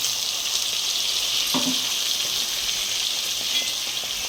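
Spice paste and a little water sizzle and fry steadily in a pan for a village-style fish and potato curry, a loud continuous hiss with a soft stirring scrape partway through.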